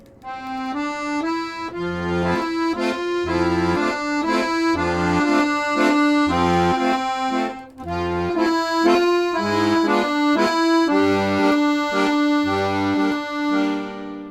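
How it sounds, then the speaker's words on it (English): An accordion plays a bouncy oom-pah pattern, low bass notes held connected as legato alternating with short, clipped staccato chords in a steady rhythm, loud and close. "I used to play them connected to the bass note as a legato, and then play two staccato chord notes"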